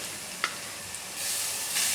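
Tamarind and tomato liquid mixed with curry powder is poured into a pan of hot fried shallots for a fish curry, starting with faint clinks and rising into a steady, close sizzle.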